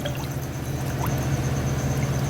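Water being poured into a cooking pot for spicy fish rasam, a soft continuous trickle against a low steady background hum, close and fairly quiet, with no talking.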